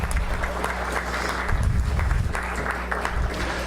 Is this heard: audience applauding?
yes